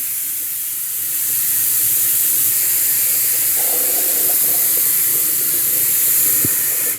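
A Vevor fluid extractor pump draws fluid up through a tube from a Cub Cadet mower, giving a constant loud airy hiss with faint gurgling bursts midway, ending abruptly.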